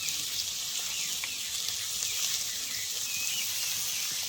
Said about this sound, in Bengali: সবজিগুলো একটু ভালো করে ভেজে নেব